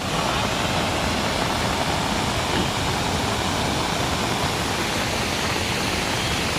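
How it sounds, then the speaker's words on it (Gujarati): Monsoon rainwater pours off the hills and rushes down a swollen village stream, making a dense, steady roar that stays loud and unbroken throughout with no voices. "જોવો મિત્રો કેટલું પાણી જાય જોવો"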